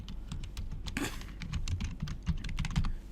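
Someone types an email address on a computer keyboard, a quick irregular patter of close key clicks with a few heavier taps, heard alone.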